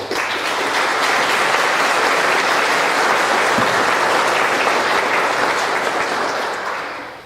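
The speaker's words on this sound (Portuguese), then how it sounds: "Podemos aplaudi-lo." A church congregation applauds a deacon at a Bom Jesus do Ribeirão Grande service, a loud, sustained roll of many hands clapping together that holds steady for several seconds before tapering slightly at the end.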